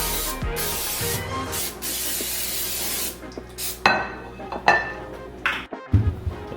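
Several short hissing bursts of cooking spray into a glass pan, close by, with faint clinks of the pan between sprays.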